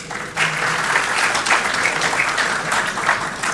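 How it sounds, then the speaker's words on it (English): Conference audience breaking into applause during a security talk at BalCCon2k16, the clapping swelling in quickly after a brief quiet start and holding as a dense, lively crowd sound to the end. "A round of applause."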